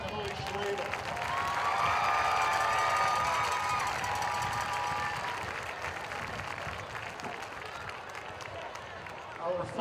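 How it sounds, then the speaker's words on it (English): An audience at a high school football game applauds steadily for several seconds, a dense wash of clapping with a few cheers mixed in, gradually easing off toward the end. "How about a big round of applause for Emily Schwabel."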